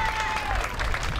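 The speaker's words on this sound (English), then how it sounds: "give the guys on the CIC a good round of applause." Applause from a crowd at the Kelly Wagner Ladies Angler Tournament, a winner-take-all ladies fishing event, forms a steady dense patter across the whole moment, with a faint tonal whistle or voice riding over it.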